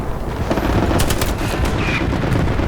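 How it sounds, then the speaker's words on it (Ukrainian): Gunfire in the World War II shooter Hell Let Loose, rapid rifle and machine-gun shots crackling close by over a constant rumble of battle noise. "прямо от вони стріляють тут поряд"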